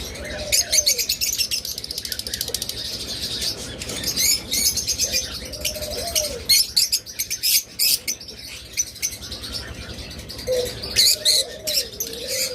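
Pet lovebirds, cockatiels and budgies at a bird sale chirp and call close by in busy, overlapping bursts, with sharp tweets and recurring whistled calls throughout.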